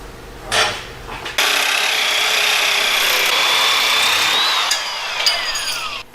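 A power tool grinds a metal piece on a rock crawler build, producing a loud, steady, harsh whine after a few short bursts, with a shifting high tone toward the end.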